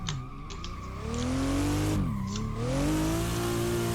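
In Assetto Corsa, a BMW yanks its handbrake on the Bihoku Highlands course, and the tires squeal loudly and steadily over an engine note that dips, then climbs again.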